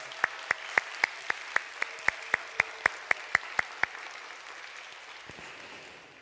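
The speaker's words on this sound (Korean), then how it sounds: "우리 격려와 사랑의 박수 한번 하겠습니다" A church congregation claps together in steady, even applause that begins suddenly at full strength, holds for about four seconds with a few sharp claps standing out above the rest, and then fades into quiet room tone.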